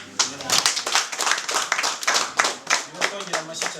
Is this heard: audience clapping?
yes